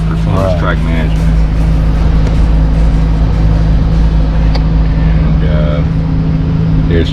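A Corvette 70th Anniversary Z06 drives along with a steady, loud engine and road drone, while a person talks over it throughout.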